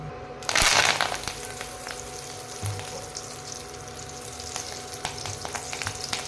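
Fresh henna leaves dropped into hot oil in a pan, a loud burst of sizzling at the start that settles into a steady, crackling fry with occasional sharper pops.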